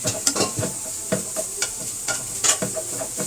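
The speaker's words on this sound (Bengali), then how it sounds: "তো হালকা ভেজে নিব আমি" Spiced chicken fries lightly in a pan as a pizza topping, with a soft continuous sizzle broken by intermittent stirring scrapes and clinks, close up and with no talking.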